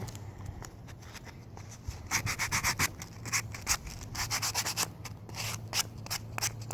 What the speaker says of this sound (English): you can continue working on sanding